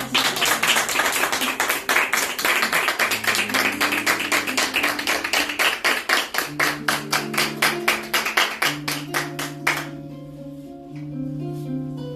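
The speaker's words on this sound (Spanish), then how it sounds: "Un aplauso, señores." Audience clapping at a novel presentation in Madrid, a dense steady burst of many hands that thins into scattered claps near the end while soft music notes sustain underneath.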